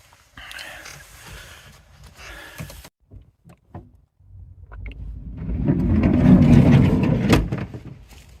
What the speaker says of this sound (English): within a minute there was a car reversing up and it's just driven off